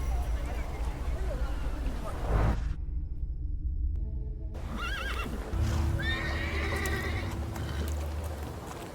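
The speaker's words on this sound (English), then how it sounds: "I meant to take the horse out for a ride" A horse neighs and hooves clop amid sound effects from the RPG The Thaumaturge, with speech nearby and a short quiet gap in the middle.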